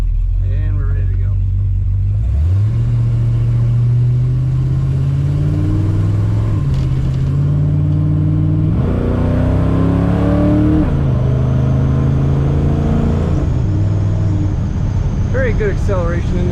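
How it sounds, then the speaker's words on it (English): A loud 1962 Ford Fairlane two-door post engine rumbles close by while driving, with several rising revs as it accelerates through gears and someone talking intermittently over it. "This car's a little loud, so hopefully you can hear me if I talk while we're driving"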